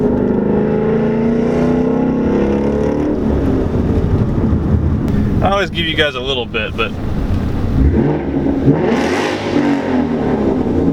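A 2016 Ford Mustang GT V8 exhaust with an X pipe and Roush axle-back rumbling and revving loudly under wind buffeting, while someone talks briefly over it in the middle.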